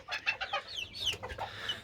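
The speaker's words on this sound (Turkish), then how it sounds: "Evet lekesiz koyu blue motlet bir horoz ve efsane bir horoz." A spotless dark blue mottled rooster clucks in a rapid run of short, bright calls, followed by a few rising squawks, faint and somewhat distant.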